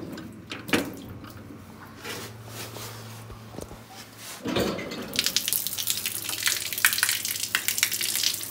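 Water from a basin is dumped onto a floor and runs toward a floor drain, a sloshing pour that starts faint and grows into a louder, splashing gush in the last seconds.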